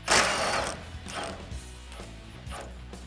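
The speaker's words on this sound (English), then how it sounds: "Grab an 18 socket and get these off." An 18 mm socket on a ratchet clicks in short bursts while loosening front bumper bolts on a 2014-2015 Chevrolet Silverado, close and fairly quiet with no talk.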